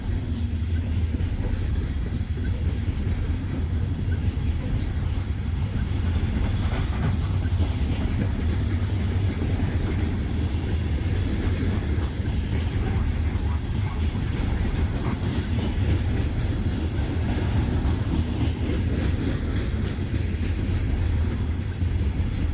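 A CSX freight train rumbles steadily past on the rails in Greenwich, Ohio, loud and close, its low roar and faint wheel clatter continuing without a break.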